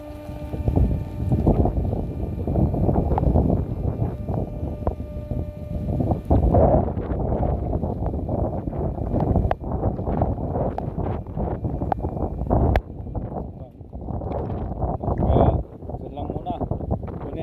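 Gusty wind and rain buffet the microphone in a storm with a broad, rough roar, rain-like patter mixed in and a person speaking intermittently over it, near a herd of cows.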